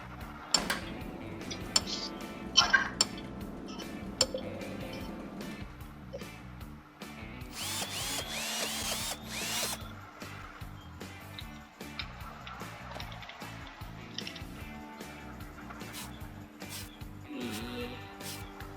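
A car body polishing machine works the paint in Gas Station Simulator, clinking and ticking mechanically with a busy burst of buffing noise midway, fairly quiet and steady throughout.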